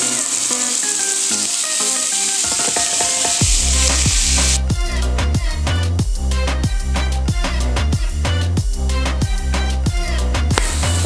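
Pork hits a hot pan over high heat and breaks into loud, steady sizzling and frying, with rhythmic scraping or stirring strokes throughout and no talk.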